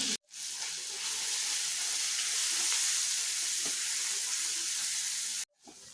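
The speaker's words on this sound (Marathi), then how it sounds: "आता टाकूयात आपण हे जे वाटण करून घेतलं आहे ते वाटण" Ground masala paste and whole spices hitting hot oil in a pan, a loud sudden burst of sizzling that holds steady for several seconds before cutting off, no voices.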